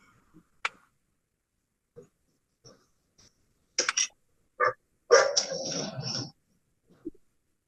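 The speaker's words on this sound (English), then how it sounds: "Dogs." A dog barks in a few sharp separate bursts, with a longer rough growl-bark near the end, fairly close over otherwise quiet surroundings.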